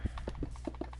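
Horse hooves clopping in Minecraft, a quick run of light, evenly spaced hollow clops, about eight steps in a second, close and clear over a faint low background hum.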